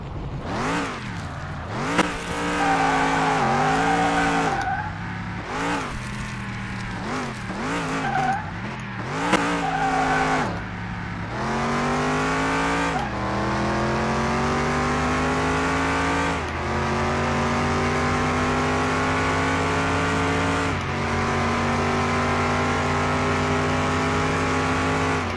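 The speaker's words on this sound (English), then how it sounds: "What happened? I thought that engine for Becky 33 was more powerful" A race car with a freshly rebuilt engine revs hard again and again, its loud engine note sweeping up and down in pitch, then settling into longer sustained climbs, with no voices heard.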